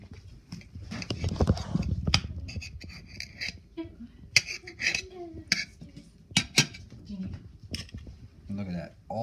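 Knife and fork cutting a small center piece from a roast of pheasant, chukar and quail, a string of close clinks and scrapes of cutlery on a plate among softer handling sounds.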